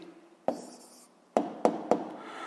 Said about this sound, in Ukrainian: Ну, гаразд, записуємо відповідь.